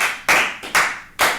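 Applause from a live improv comedy show audience, arriving in three short, loud bursts with brief dips between them, close and full-bodied with no talking.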